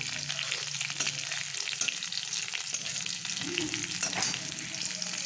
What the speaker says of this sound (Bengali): রসুনগুলোও অনেকটা ভাজা ভাজা হয়ে এসছে